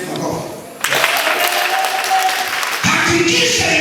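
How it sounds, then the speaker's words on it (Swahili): An audience at a Swahili church sermon claps loudly after a preacher's call, the clapping bursting in abruptly and continuing steadily with a voice speaking over part of it. "Tigeni makofi."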